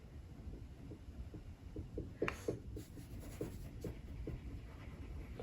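Oil pastel rubbed hard across coarse paper, producing a steady run of short, scratchy scraping strokes in a quiet room, each pass distinct and close, with no voices over it.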